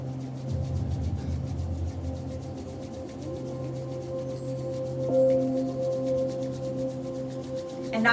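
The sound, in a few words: rubbing palms together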